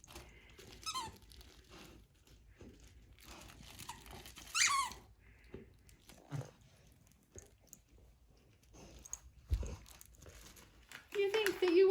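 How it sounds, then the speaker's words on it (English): A dog toy squeaker squeaks in a few short bursts while a Newfoundland dog plays with a new toy, with crinkling packaging and quiet talk from people in between. "We found the body squeaker."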